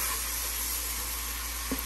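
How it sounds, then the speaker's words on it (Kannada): Grated beetroot frying in a pan while the moisture cooks off, giving a steady, even sizzle and hiss with a faint stir near the end. "ಸ್ವಲ್ಪ ಚೆನ್ನಾಗಿ ಫ್ರೈ ಮಾಡ್ಕೊಬೇಕು."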